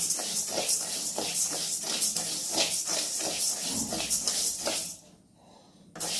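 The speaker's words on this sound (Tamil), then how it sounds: "இப்போது அந்த பச்சரிசியை வந்து கொஞ்சம் நல்லா வறுத்து எடுத்துக்கலாம்" Raw rice is dry-roasted in a pan, giving a close, steady hissing rustle with soft rhythmic scraping pulses, easing into a quieter hiss near the end.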